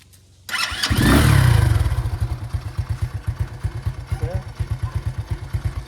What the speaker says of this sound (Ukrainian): Зараз заводимо, нагріваємо мотоцикла.